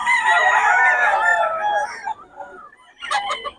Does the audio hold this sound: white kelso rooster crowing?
yes